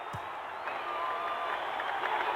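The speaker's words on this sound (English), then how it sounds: "There was a change in the crowd noise there." Steady stadium crowd roar at an Australian football match between Gold Coast Suns and Sydney Swans, a broad continuous murmur that swells slightly toward the end, with no clear cheers standing out.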